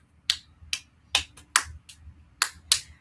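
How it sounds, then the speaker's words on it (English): Seven sharp hand claps in an uneven rhythm, each a crisp close burst over a faint low hum, with no talking. "I clap for you."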